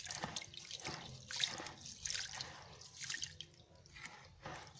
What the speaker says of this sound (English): So I'm trying to wash my rice thoroughly.